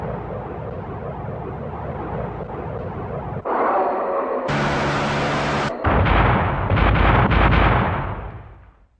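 Goalkeeper CIWS naval close-in weapon system firing during Royal Netherlands Navy and Royal Navy trials: loud, dense bursts of heavy automatic gunfire in several close, sharp-edged blasts that shift in tone, then trail away at the end.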